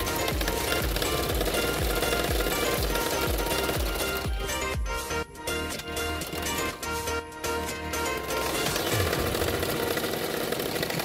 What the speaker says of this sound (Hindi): अभी मैं फिटिंग के लिए सिलाई कर रही हूँ।